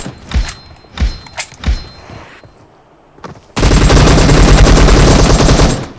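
AKM rifle fire in a video game: a few spaced single shots, then a loud sustained automatic burst of rapid gunfire lasting several seconds, close and dominant.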